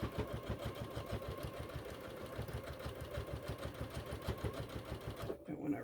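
A sewing machine stitching a thick seam, a fast, even mechanical chatter that runs steadily and close for several seconds before stopping abruptly, with faint voices under it.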